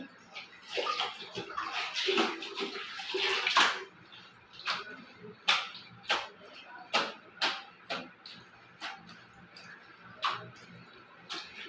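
Water sloshes and splashes as clothes are washed by hand, followed by a series of sharp slaps and knocks at irregular intervals.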